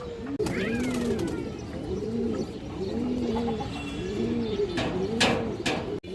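A male pigeon coos close by in a steady rhythm, about five repeated rolling coos with short gaps between them. A few faint chirps and light knocks sound in the background.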